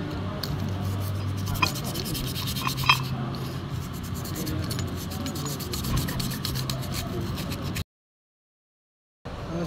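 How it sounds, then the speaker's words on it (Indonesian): Sandpaper rubbing back and forth over the dirty, burnt surface of a starter motor part, a steady close rasping scrape that continues for several seconds before a brief gap of silence. "Permukaan yang kotor dan terbakar digosok dengan kertas amplas"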